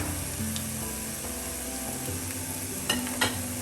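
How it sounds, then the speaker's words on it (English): Red chilies sizzling in a hot pan while being stirred, a steady soft frying hiss with a couple of brief utensil clicks near the end, close and moderately quiet, no voices. "At this stage, add the red chilies. Saute it for about 2 seconds"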